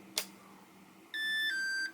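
A Walkera Rodeo 110 quadcopter transmitter sounds binding tones: a brief click, then a sustained electronic beep chord held for under a second, clear and alone.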